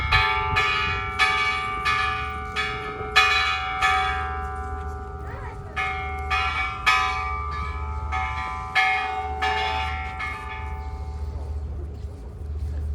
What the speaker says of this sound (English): Children are ringing